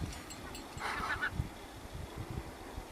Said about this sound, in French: On partage avec les oiseaux.